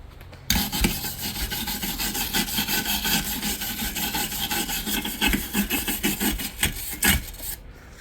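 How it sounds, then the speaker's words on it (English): A wire brush scrubbing a fresh TIG weld on metal, a loud, continuous close-up rasping scrape with rhythmic strokes for several seconds, no voices. "Let me brush it."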